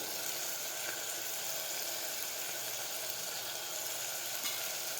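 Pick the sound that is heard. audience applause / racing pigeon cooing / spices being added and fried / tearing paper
spices being added and fried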